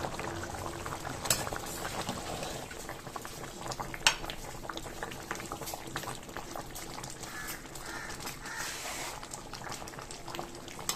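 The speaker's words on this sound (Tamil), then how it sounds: "எப்படி கொதிச்சு வந்திருக்கு" Mutton biryani boiling in a pot, a continuous soft bubbling and simmering hiss with occasional small pops and one louder clink, steady and close throughout, with no speech.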